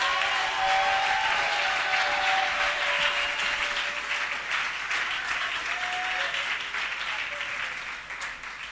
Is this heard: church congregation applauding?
yes